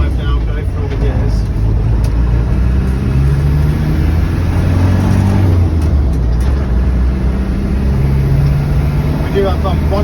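A Land Rover Defender 200tdi diesel runs up through its gears from inside the cab. The close, loud engine drone rises and drops in pitch with each shift, over continuous road rumble.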